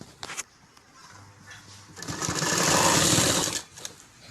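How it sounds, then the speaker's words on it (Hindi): A sewing machine runs a single close, steady burst of about a second and a half while stitching the side seam of a sharara, with quieter handling noises before and after. "अब हम इसके साइड से इस तरह सिलाई करेंगे"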